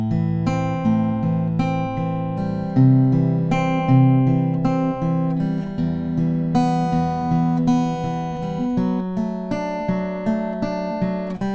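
Acoustic guitar picking the first line of a tab, a sustained fingerpicked pattern of ringing chord notes. It plays alone at steady moderate volume with no voices.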